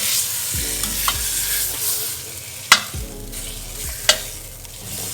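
Birria meat browning in a hot pan, a steady sizzle and fry with stirring and scraping underneath, plus a couple of sharp utensil clinks against the pan.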